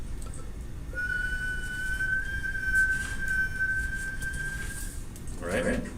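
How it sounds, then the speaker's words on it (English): A person whistles one long, steady, slightly wavering note for about four seconds against a soft background hiss, with a faint noise at the end. "So I'm going to start whistling first."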